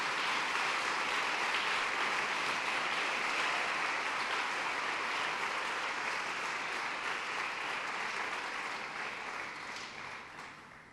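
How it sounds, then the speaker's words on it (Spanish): A church congregation claps in sustained, even applause that fills the space with a broad, continuous patter and slowly fades toward the end. "a mí me gustaría oír que usted le da una ofrenda de palmas con todo su corazón al Señor"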